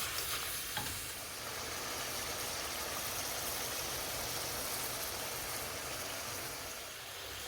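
Ginger and garlic frying in oil for a lamb yakhni: a steady, dense sizzle that runs for several seconds, close and fairly loud, with a little stirring and no talking.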